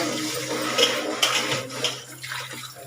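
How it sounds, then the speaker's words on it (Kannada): Water sprays and splashes hard from a tap, a continuous close rushing hiss with a few sharper splatters and no talking. "ನನಗೆ ಸಿಡಿತಾವ ನೀರು ನೋಡ್ರಿ ಈ ಥರ ಹಿಂಗೆ ಹಿಂಗೆ"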